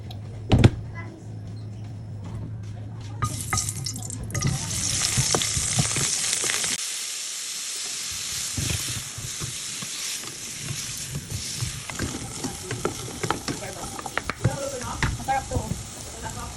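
Hotdogs sizzle in a hot pan, a loud, hissing fry that swells after a few seconds, briefly dips, then carries on with scattered clicks and scrapes from stirring.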